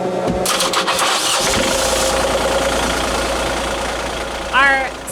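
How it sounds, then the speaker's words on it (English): A sailboat's engine, started by touching a wire to the starter during a Pacific crossing, cranks briefly, catches with a loud burst and settles into a steady close idle. "all I have to do is touch this wire on the starter and it just like and starts up"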